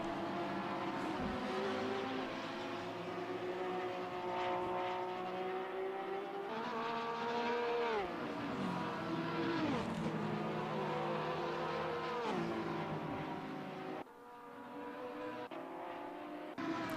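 Lamborghini race car in a sim racing game at the Grobnik circuit in Croatia, its engine revving hard with repeated upshifts and downshifts, continuous and loud, with tire squeal at moments and no talk.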